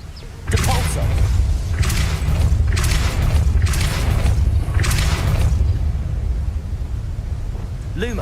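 Depulso spell cast in the Hogwarts Legacy video game, a series of five heavy booming whooshes in steady rhythm, loud and close over a low rumbling game backdrop.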